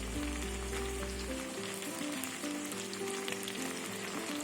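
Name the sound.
tomatoes added to frying potatoes, sizzling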